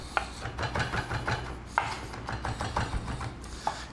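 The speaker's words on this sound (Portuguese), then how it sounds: "Eu tô picando alho aqui" A knife chops garlic cloves close by in a kitchen, giving quick, uneven scraping and tapping strokes against a board.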